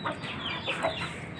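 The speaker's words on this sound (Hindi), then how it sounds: "मुर्गियाँ जो है वो इस वक्त ऊपर आ चुकी हैं" Several chickens clucking in a cage, short overlapping calls close by with a steady background hum; no talking.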